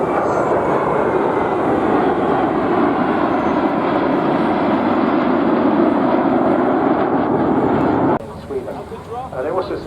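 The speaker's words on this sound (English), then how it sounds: "hands of Stan Anderson and Lars Martinsson, the Draken formation from the Swedish Air Force historic flight" Saab Draken jet fighters of the Swedish Air Force historic flight pass in formation, a loud, sustained broadband jet roar that holds steady for about eight seconds before dropping off abruptly, with some talk afterward.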